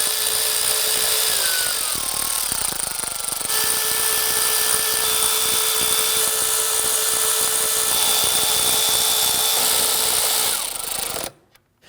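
Power ratchet or drill running down the intake manifold bolts on a 2010-2019 Ford Taurus 3.5L V6, a steady high whine with short bursts and pitch shifts, close and loud, stopping abruptly at the end.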